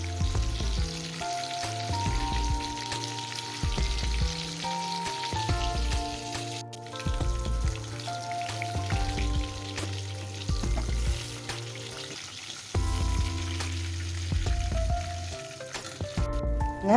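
Mutton kofta meatballs frying in hot oil give a steady, close bubbling sizzle that runs throughout with faint stirring, under background music.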